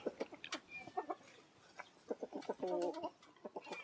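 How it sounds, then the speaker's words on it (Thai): Chickens clucking close by near a parked car, a busy run of short repeated clucks and squawks, fairly loud, with a few faint background sounds between calls. "ไก่เห็นคนเนี่ย มันก็มาเฝ้ารถครับไก่เนาะ ธรรมชาติของมัน"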